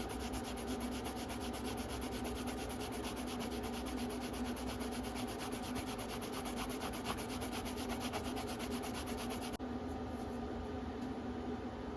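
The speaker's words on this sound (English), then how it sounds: "Takes a little more scrubbing on this tougher stuff with it, but I think it leaves a nice finish on your blade." Steady, even scrubbing on a vintage Vilches Leon fixed-blade knife made in Mexico, a close, rapid rubbing rasp like fine sanding that runs continuously and then cuts off sharply near the end, with no talking.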